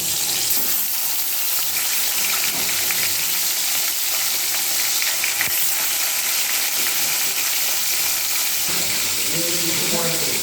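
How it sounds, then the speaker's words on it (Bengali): Rui fish pieces frying in hot oil, a dense, steady sizzle that crackles loudly and continuously throughout. "এইবার মাছগুলোকে ভালো করে মেখে নেব আর তারপর আমি ভেজেও নেব।"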